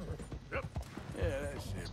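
A horse in the video game Red Dead Redemption 2 clip-clops with close hoofbeats and a snort, all under a voice.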